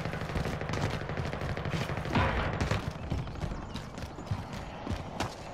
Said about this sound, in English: Looks like we got some shooting going on around.